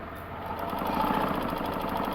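A sewing machine hums steadily and close, stitching along a marked line on a shirt's hem, its motor running at an even pace throughout.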